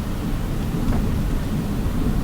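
Steady rain falls in Kansas as a dense, continuous broadband hiss with a deep low rumble underneath, even and unbroken throughout, with no voices.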